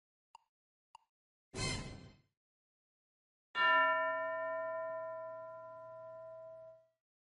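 Two tiny ticks, a short noisy clang, then a single loud school bell strike that rings out and slowly decays for several seconds.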